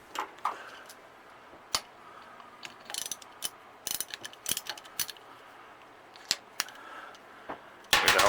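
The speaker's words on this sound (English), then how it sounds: "You're going to take the 1/2-inch ratchet and socket and remove that." A 1/2-inch ratchet and socket working a cap nut loose on a leaking Enerpac Porto Power hydraulic ram, giving scattered sharp metallic clicks and pawl ticks in short bursts, close and fairly quiet.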